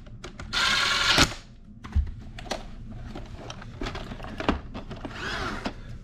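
An iRobot Roomba vacuum, freshly fitted with a new battery, gives a short electronic startup tone followed by soft mechanical clicks and thunks close by, with the chime fading and a quieter tone returning near the end.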